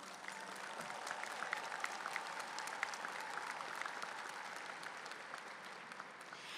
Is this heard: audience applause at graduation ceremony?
yes